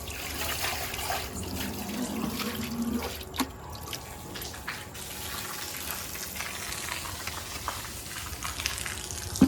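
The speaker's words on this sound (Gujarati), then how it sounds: "પૂરી ડોલ ખાલી કરી દીધી." Water collected from an air conditioner drain is tipped out of a bucket, splashing and trickling in an uneven stream with a few sharper splashes, fairly quiet and with no talking.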